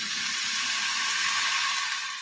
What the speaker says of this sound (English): That's the sound of extremely tender and delicious beef from certified Piedmontese